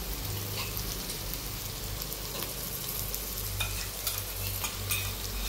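Onion with ginger-garlic paste sizzles steadily in a pan for biryani, stirred with a continuous scraping hiss and occasional sharp clinks of the spoon, close and loud with no voices.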